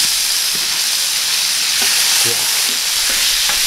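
Pork cutlet sizzles steadily and loudly in a hot pan with garlic, a dense continuous frying hiss with a few soft clinks and stirring touches throughout.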